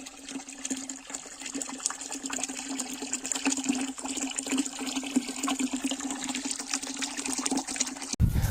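Continuous gushing flow of jivamrut slurry pumped through a farm filter, with a steady motor hum underneath, loud and unbroken until it cuts off near the end.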